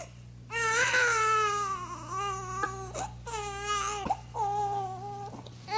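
A storyteller at a Bhagavat Katha voices the crying of a newborn baby girl, a series of loud, drawn-out wailing sobs with brief breaks between them, performed by a human voice imitating an infant.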